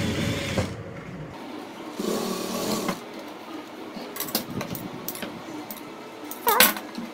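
Sewing machine stitching cloth for a Goddess Lakshmi outfit, quiet bursts of mechanical whirring separated by pauses, with small clicks and handling noises nearby, no talk.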